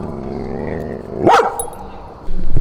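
A dog named Clancy, nervous around a microphone after a small bar gig, lets out a single sharp bark amid low room chatter and background noise.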